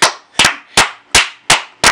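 Six loud hand claps land close to the listener in a steady rhythm, roughly every third of a second, with nothing else around them.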